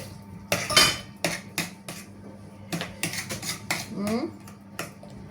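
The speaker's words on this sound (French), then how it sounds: "On va touiller ça." A metal utensil stirs leftover whipped cream in a bowl, giving a run of sharp clinks and scrapes in uneven bursts, close and fairly loud, with a few quieter taps between.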